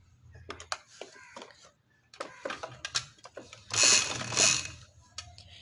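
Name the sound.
sewing machine stitching light green trouser fabric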